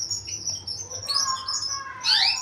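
A male canary chirps during a pairing session before entering the breeding cage, giving clear close tweets and rising whistled calls, with a brighter burst of chirping near the end.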